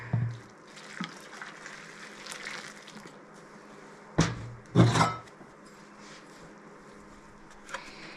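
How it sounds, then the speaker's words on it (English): Water poured onto dry seed-starting soil, soft trickling and splashing with a few sharp knocks and thumps around the middle, close and without voices. "Now I want to moisten the soil. Do that with some water."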